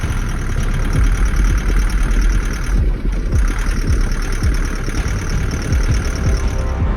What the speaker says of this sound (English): that last clip might just sound like a normal loud diesel